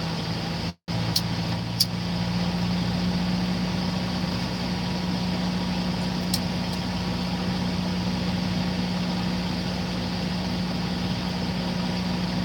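A heavy engine idles steadily nearby, a constant low rumble and drone that continues unchanged throughout, with a couple of faint clicks early on.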